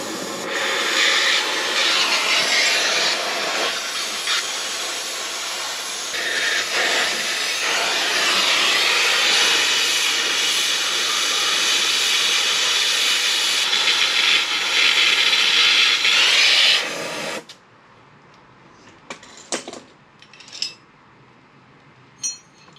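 A torch heats a stuck brake part on an LS-swapped 1957 Chevy, giving a loud, steady roaring hiss for about seventeen seconds before it cuts off, leaving a few faint clicks and taps.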